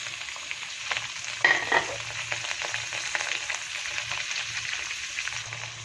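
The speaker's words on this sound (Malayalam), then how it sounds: "സവോള നന്നായിട്ട് വഴറ്റിയെടുത്തിട്ടുണ്ട് കേട്ടോ." Onions, garlic, shallots, ginger and coconut fry in a pan with a constant close sizzle, a brief louder stir burst early on, and no voices.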